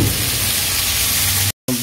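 Radish greens fry in a pan with a steady, close hissing sizzle that runs almost continuously, broken by a brief cut near the end.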